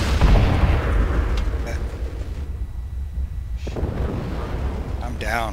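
Heavy weapons fire from battling mechs in MechWarrior Living Legends, booming bursts and sustained rumbling blasts close by, with a brief lull and then more fire.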